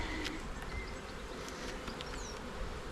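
Honey bees from a small colony buzz during an open hive inspection, a dense steady hum filling the whole stretch with faint individual wingbeats passing close by, no voices.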